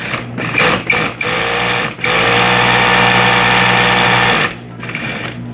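An industrial sewing machine with a small roller presser foot stitching material for handbag making, a loud close steady whirring run of several seconds between short stop-start bursts, no talk.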